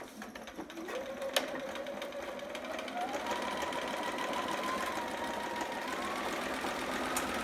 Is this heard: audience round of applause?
no